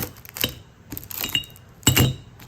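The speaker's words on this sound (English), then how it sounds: "let's listen to the sounds of metal" Silver and gold metal pieces clinking and jingling together up close, three bright clattering bursts with scattered small chinks in between, no voices.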